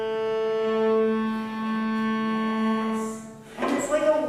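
Cello bowed softly in a masterclass, one long clear sustained note that swells and holds, then a brief shift to another pitch with some rustle near the end.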